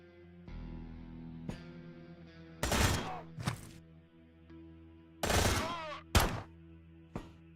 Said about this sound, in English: Stationary caliber machine gun with automated targeting system.